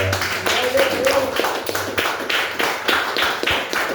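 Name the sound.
applause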